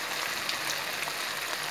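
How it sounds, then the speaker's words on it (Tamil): Seer fish frying in hot oil in a home kitchen, giving a steady, moderately loud crackling sizzle with small pops scattered through it and no voices. "ஒரு மீனாக போட்டு நம்ம பொரிக்கிறோம்."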